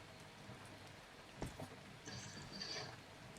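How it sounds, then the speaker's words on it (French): Steady rain falling in the ARK survival video game, a continuous hiss of drops on surfaces, with a brief louder patter and a few faint higher tones partway through. "je suis quand même censé être à l'intérieur, il pleut, c'est pas normal."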